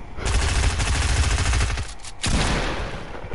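Rapid, loud shotgun blasts fire back to back in a video game using a reload-cancel trick, a dense rattling burst with a brief gap before another volley.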